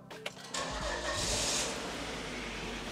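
A Volvo car engine cranks briefly, catches and starts, then settles into a steady, close idle rumble.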